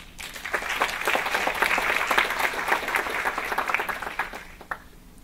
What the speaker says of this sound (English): I think we should give them a round of applause too